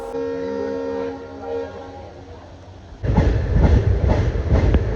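An ALCO diesel locomotive horn sounds with steady tones, then gives way to a loud rumbling engine and rhythmic clatter as the heavy train begins rolling.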